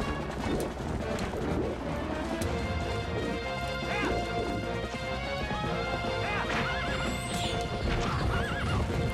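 Horse hooves galloping and repeated neighs and whinnies from the Wii game Twilight Princess, loud and continuous, with scattered crashes and thumps in a busy in-game scene.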